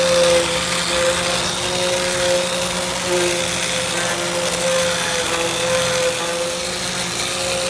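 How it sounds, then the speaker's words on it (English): Powered sanding of a car headlight lens with 180 grit abrasive, a steady whining machine drone with a sustained tonal hum, continuous and close, with no talking. "Now I'm going to start sanding. We start with the 180 grit to completely remove the old surface"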